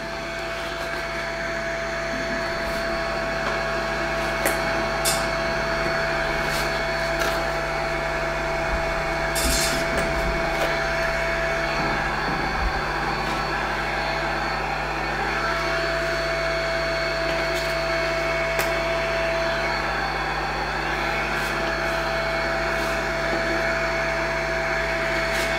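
Trend AIR/PRO powered filtering visor fan running continuously with a steady whirring hum and a fixed tone, close and constant throughout, worn during woodturning.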